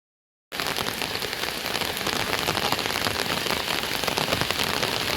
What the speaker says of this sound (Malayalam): അപ്പോൾ കുറച്ച് ദിവസമായിട്ട് നമ്മളിവിടെയൊക്കെ മഴയാണ്.